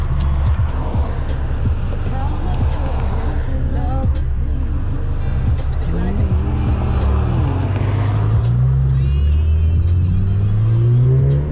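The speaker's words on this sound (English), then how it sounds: "it's a lot of traffic." Road traffic heard from inside a stage 2 Alfa Romeo Giulia: a steady, loud engine rumble with rising revs toward the end, cars moving nearby, and voices talking faintly underneath.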